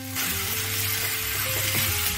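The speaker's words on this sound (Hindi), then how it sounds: "अब हम इसमें कटहल डाल देते हैं।" Jackfruit pieces hit a pan of hot masala, setting off a sudden loud sizzle that keeps hissing steadily, with a faint tonal hum running underneath.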